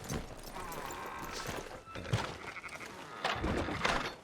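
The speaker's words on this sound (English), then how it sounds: "Fine sheep." Sheep bleat in the video game Red Dead Redemption 2, a few wavering calls over steady ranch ambience with hoof clops and other animal noises mixed in.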